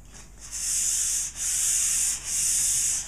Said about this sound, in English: on the second application, if you wish, you can use fine grit sandpaper